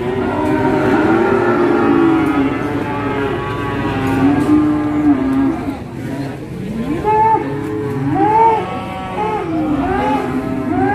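Limousin cross cattle at a busy cattle market low and moo repeatedly, several long drawn calls rising and falling over a constant crowd murmur and background din.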